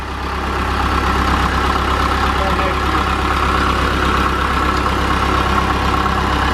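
A 1978 Caterpillar D3 bulldozer engine runs steadily at idle, a loud, continuous low diesel rumble with a rapid rhythmic chug that holds constant throughout, close by with no talk over it.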